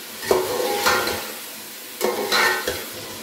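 Chicken pieces being sautéed in a pot for yakhni pulao: two bursts of spoon stirring and scraping over a soft sizzle, close and moderately loud, with a brief lull between them.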